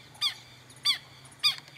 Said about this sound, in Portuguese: Assanhou até as galinhas da Angola.